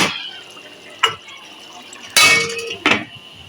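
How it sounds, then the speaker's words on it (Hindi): A lid lands on a pot of chicken karahi with metallic clanks and clatter, one light knock followed by two louder, ringing hits, close by against a quiet background. "अब हम इसको ढक के रख देंगे"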